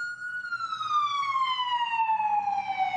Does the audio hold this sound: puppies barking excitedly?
no